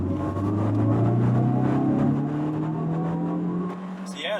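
A 2000 Mercedes SLK230 Kompressor accelerates from inside the cabin, its engine note climbing steadily in one sustained pull before easing off near the end.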